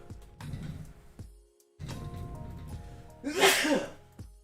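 Two sharp sneezes, the second louder and more explosive, separated by a short pause with low murmuring room noise around them.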